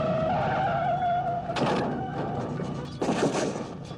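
Two heavy smashing impacts of a truck striking a person land about a second and a half apart, loud and close, over a low engine hum, in a Halloween horror film scene.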